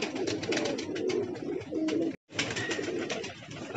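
Domestic pigeon cooing steadily at close range in low, throaty rolling calls, with a brief break partway through before the cooing resumes.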